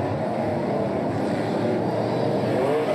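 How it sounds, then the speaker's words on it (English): NASCAR Pinty's Series race cars at Flamboro weave to scrub their tires, their engines a steady, loud, continuous drone with a faint rising and falling whine. "Drivers scrubbing their tires, trying to get some heat of them."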